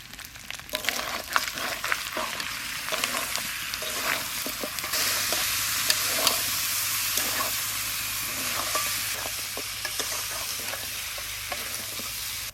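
Mutton rogan josh sizzles loudly and steadily in a pan as yogurt goes in, with a continuous frying hiss and repeated scraping stir strokes close by, and no talking.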